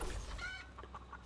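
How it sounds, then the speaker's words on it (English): A mountain chicken in the video game Fortnite clucks close by, a brief run of choppy, throaty clucks over steady game background noise. "It's the mountain chicken, guys."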